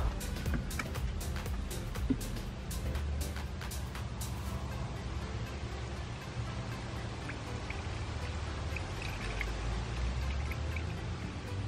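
Brake fluid poured into the master cylinder of a 1995 Dodge Ram, a steady close trickle and splash running without a break for the whole stretch, with broadband noise all the way through.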